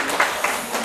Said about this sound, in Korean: 자, 박수 한번 쳐주고.